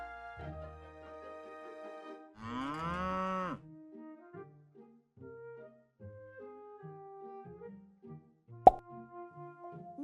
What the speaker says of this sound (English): They began to toot and moo and cuckoo.